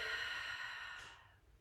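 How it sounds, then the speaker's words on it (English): A deep, slow exhale through an open mouth at the close of a yoga breathing round, a soft breathy rush that fades out over a second or so, heard close and alone. "Open mouth, exhale, let it go."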